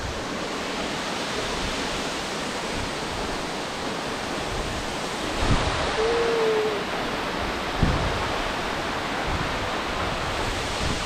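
Steady broadband roar of rushing water at Tat Yuang waterfall, continuous and close, with a brief faint tonal sound partway through and no talking.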